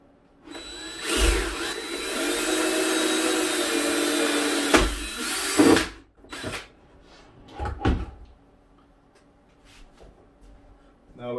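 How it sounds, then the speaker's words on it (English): A power drill bores a hole through the plastic lid of a 5 gallon hydroponic tote, a loud steady whine for several seconds that cuts off, followed by clattering handling knocks. "Go ahead and drill that."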